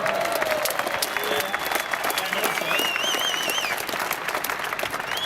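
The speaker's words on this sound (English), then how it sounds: "I think we should give him a applause" Audience at a UFC Q&A event applauds the announcer, a dense sustained clapping with crowd cheers and whistles mixed in throughout.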